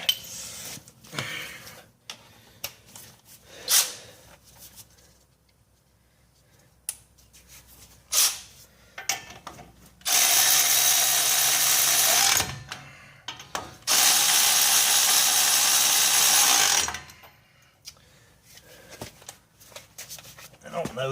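Four axle bolts on a Dodge Ram 6.7 Cummins front axle are tightened during a U-joint job, with two long loud bursts of a power tool, scattered ratchet clicks and clanks, and someone talking in between.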